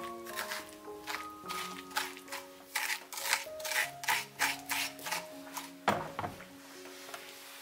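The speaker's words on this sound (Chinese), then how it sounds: "现在把这个南瓜把里面的这个瓤子呢把它掏出来" A spoon rasps and scrapes seeds and stringy pulp out of a halved pumpkin in a series of rough, rhythmic strokes, close by, under steady background music.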